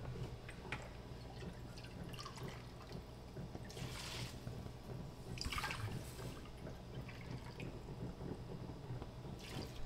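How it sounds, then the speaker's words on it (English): Water pours and drips into a cooking pot of summer harvest preserves, with soft trickling splashes rising in brief bursts over steady low kitchen background hum. "I'm going to add my water"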